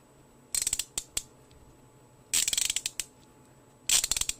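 Three short bursts of fine, rapid clicking from a Neilsen 72-tooth 3/8 inch drive quick release ratchet, close and crisp, with a few isolated ticks and quiet gaps between swings.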